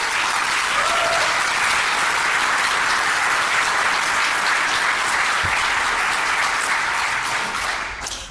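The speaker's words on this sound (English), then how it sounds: "Let's give them all a big round of applause" Sustained, dense applause from a studio audience for a ghost investigation panel, a loud even wash of many hands clapping that holds steady for several seconds before easing off at the close.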